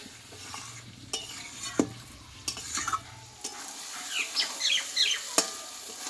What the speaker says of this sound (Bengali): এইবার আমি কষে রাখা রসুন আর আলুটাকে দিয়ে দেব যে চিকেন আর মশলার সঙ্গে এবার আলুটাকেও কষিয়ে নেবো